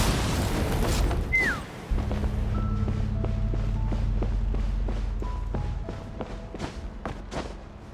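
Weapons open fire in a Genshin Impact cutscene from the Natlan Archon Quest, with a loud low boom and sustained rumble, then a rapid series of sharp bursts and pops under a steady hum, with no voices.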